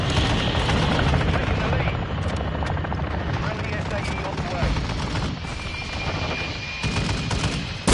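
Gunfire and aircraft noise from the video game Modern Warfare III form a dense, loud stretch of bursts over a constant rotor-like drone, and someone talks through it.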